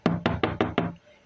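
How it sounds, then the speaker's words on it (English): Five quick, evenly spaced knocks rap on a door, close and loud, then stop. "there's a knock on the door"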